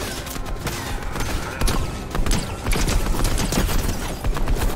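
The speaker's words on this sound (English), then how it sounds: "Alex, they're shooting." Gunfire rings out during a battle in a shooting video game, with rapid bursts of sharp cracks crowding together, near and loud, over a busy backdrop of clatter and action sounds.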